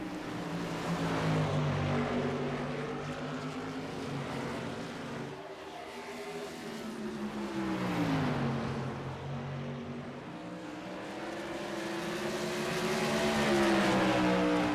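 Modified stock race cars at Five Flags Speedway roar past in a pack, engine notes rising and falling as they swing through the turns, loud and continuous with pitch sweeps, without talk audible over them.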